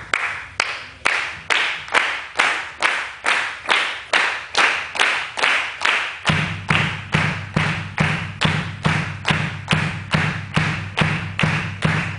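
A workshop audience at an African drum set clinic claps along in a steady, even beat, roughly two claps per second, with low drum tones joining partway through, and no talk.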